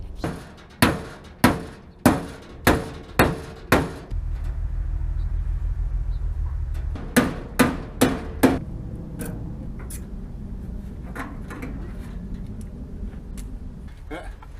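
Hammer blows ring out on the steel body panel at the wheelhouse corner of a 1956 Ford COE: a quick run of six loud, sharp strikes, a low rumble, then five more evenly spaced hits, with lighter taps fading toward the end.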